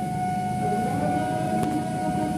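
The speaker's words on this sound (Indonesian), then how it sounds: "sekarang ada KRL masuk di stasiun Keramat menuju arah Kampung Bandan" A KRL commuter train pulls into Kramat station heading toward Kampung Bandan, a continuous moderate rumble with a steady high electric whine running throughout and one brief sharp click.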